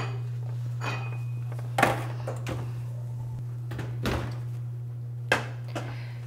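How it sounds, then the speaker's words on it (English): A baking pan holding a hemp seed apple cobbler is slid into a home oven, with a few clanks of metal and an oven door knock standing out over a steady low hum, no voices. "So let's get this into the oven."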